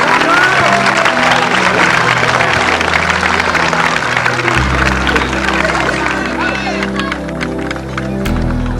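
Spectators at a 1984 semi-contact martial arts trophy ceremony in Carbonia applaud master Apicera as he receives a commemorative plaque. The clapping is steady and crowded, with a low tonal hum underneath and occasional shouts.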